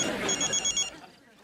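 A telephone bell rings in a rapid, repeated trill for about a second and then stops, sounding close and clear over a faint background in a domestic scene from a Hindi TV show.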